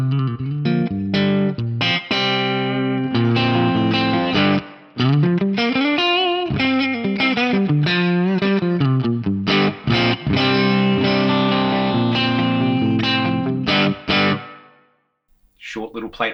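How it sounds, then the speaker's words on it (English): A distorted, effected instrument plays a busy harmonic line through a short plate reverb, giving a short, tight reverb tail, ending abruptly near the close. "Short little plate reverb in there."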